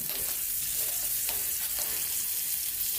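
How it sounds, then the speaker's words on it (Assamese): Two bay leaves, two green chilies and onion fry in hot oil for an Assamese lunch with rohu fish, a steady dense sizzle with crackles and occasional stirring scrapes, close and unbroken, no talking. "এতিয়া সেই একেখিনি তেলতে আমি 2 খিলা তেজপাত দিছোঁ, 2টা কেঁচা জলকীয়া দিছোঁ আৰু লগতে পিঁয়াজখিনি"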